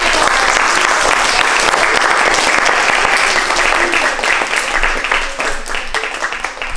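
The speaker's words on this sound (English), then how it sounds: "Can we give a round of applause?" Loud, sustained applause from an audience after fourth-grade students' wax-museum speeches at a school, a dense and continuous roar of clapping that eases off slightly toward the end.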